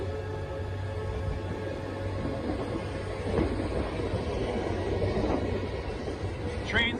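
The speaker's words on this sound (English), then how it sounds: "Trains heading east." Trains heading east along Northwest Highway rumble past steadily, a dense continuous rolling roar with faint clacking and squeal, fairly distant and moderately loud throughout.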